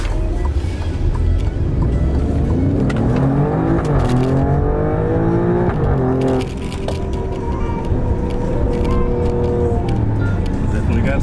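Alfa Romeo Giulia Quadrifoglio with a 505 HP Ferrari-derived engine accelerating hard, a loud in-cabin engine note rising through the gears with a brief dip at a shift, while people talk over it.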